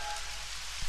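Steady rain falls with a dense, even hiss on surfaces, close and continuous, with a faint soft thump near the end.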